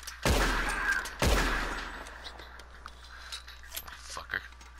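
Two loud gunshots ring out about a second apart in a Red Dead western shootout, each with a sharp crack and echoing tail, followed by quieter scattered sounds while someone talks.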